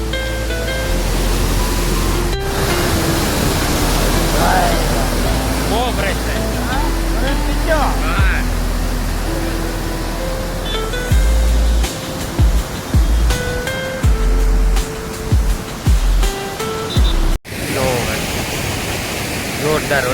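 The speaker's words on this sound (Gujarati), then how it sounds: "ગજબનું પાણી હો ભાઈ જોરદાર" Heavy floodwater rushes loudly through a village after a downpour, a dense continuous roar that fills the scene, while people talk over it and a few knocks and handling bumps break in.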